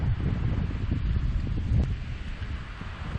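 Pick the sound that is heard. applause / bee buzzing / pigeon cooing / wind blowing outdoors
wind blowing outdoors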